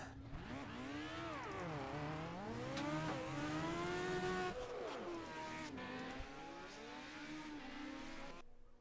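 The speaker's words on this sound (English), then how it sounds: "we're having a little play with some donuts" Legends race cars in a racing video game do donuts at Brands Hatch on Druids hairpin, engines revving up and down in rising and falling wails with overlapping cars and bursts of tyre squeal.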